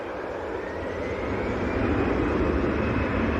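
Jet airliner taxiing at Manchester Airport, a steady broad engine roar with a faint rising whine, distant but fairly loud and growing slightly, with no talk over it.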